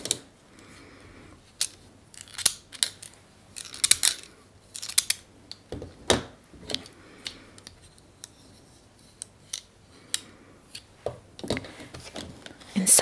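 Repeated crisp snips of scissors, irregular and close, with short quiet gaps between cuts and no talking.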